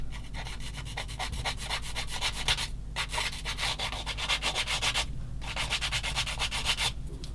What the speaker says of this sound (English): Do a bit of filing there. I'll use the fine side.